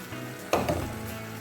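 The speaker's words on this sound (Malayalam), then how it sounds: "ഇനി നമ്മളതിലേക്ക് ഞാൻ എടുത്തു വെച്ച നല്ല കട്ട തൈര് ഒഴിച്ച് കൊടുക്കാം." Thick curd poured into bitter gourd kichadi in a hot pan, a sudden loud splash and sizzle about a third of the way in, settling into a softer steady crackle with no talk.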